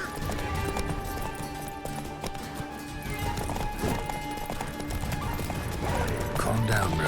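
A horse in the video game The Witcher 3: Wild Hunt trots with rhythmic clip-clopping hooves and occasional snorts and whinnies, under a voice talking.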